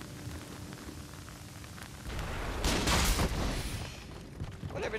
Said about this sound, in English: he shot me with a fucking cannon